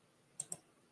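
Two quick computer mouse clicks, close and crisp, a fraction of a second apart against a quiet room background.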